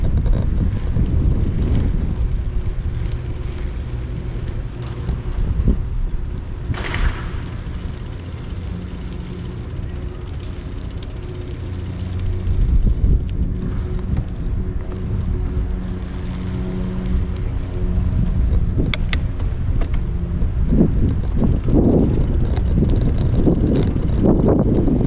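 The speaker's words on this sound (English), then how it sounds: "Little windy corridor right here, feels good." Wind blowing through an outdoor corridor by an art center in Chapel Hill, a loud, continuous rumbling buffet against the microphone that swells and eases with faint tonal hum underneath and no speech.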